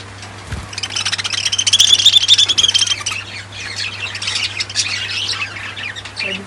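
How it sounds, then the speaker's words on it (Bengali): Many pet birds squawking and chirping together inside a room, a loud, busy chorus of overlapping calls that swells and then eases slightly, with no talk. "দেখছেন আমার কত পাখিরা ডাকাডাকি করতেছে।"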